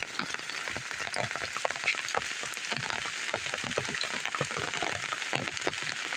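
Rain falls steadily on a surface in rural green countryside, a dense continuous patter with scattered sharper drops, moderately loud and without speech.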